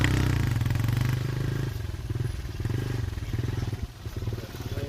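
A motorcycle rumbles steadily up close while riding through heavy traffic, its low engine drone pulsing with slight throttle changes and some clatter.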